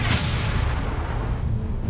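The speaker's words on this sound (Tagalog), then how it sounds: "Pinatigil ng mabigat na artilerya ang konboy." Heavy artillery fire pounding a Russian convoy, a loud boom opening into a dense, rumbling roar that holds steady for about two seconds, with no voices.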